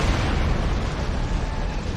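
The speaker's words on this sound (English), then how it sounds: "Detonating charges!" Detonated charges exploding in a Star Trek space game, a heavy sustained blast with a deep rumble that stays loud and dense for two seconds, with no voices over it.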